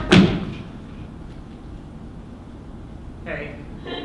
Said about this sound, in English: I heard the door.